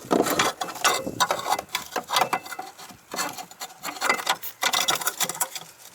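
A socket ratchet clicks rapidly in repeated bursts while tightening a module back into place on a BMW Z3, close and fairly loud, with short pauses between strokes and faint handling noise.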